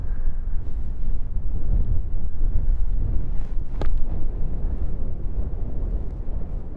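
Strong wind gusts across the links at Royal Troon golf course, a loud, steady low rumble buffeting the microphone with no one speaking.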